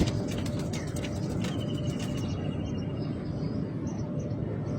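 Kept pigeons cooing softly in a loft amid a steady broadband background hum, with a few light taps early on and a thin high chirp running through.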